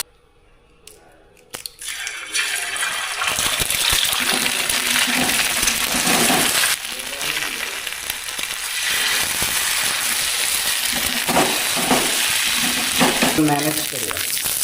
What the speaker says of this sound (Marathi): 2 अंडी फ्राय करतो इथं